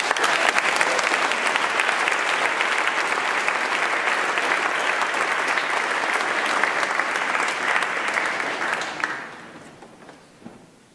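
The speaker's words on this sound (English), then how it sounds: "Let's give them a clap." Audience at a school concert claps in a dense, sustained burst of applause that holds steady, then fades out with a few scattered last claps.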